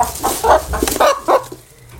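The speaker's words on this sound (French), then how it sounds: "c'est des poules soie, d'un tout petit format, elles sont toutes blanches" Small white silkie hens clucking close by in short, irregular bursts of soft, throaty calls, with brief pauses between them.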